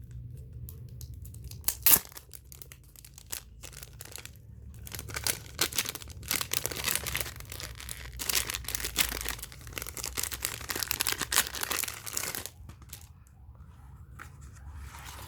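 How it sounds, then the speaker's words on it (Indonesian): Plastic packaging on a Wendy Like Water sticker pack is opened by hand, with close, irregular crinkling, rustling and tearing bursts that continue for much of the stretch with short pauses. "Jadi kita unboxing dari stikernya dulu."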